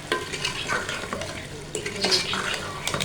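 Chopped coriander is stirred into a simmering chicken and capsicum curry. A spoon scrapes through the thick mixture with repeated clinks against the pot over a steady low sizzle.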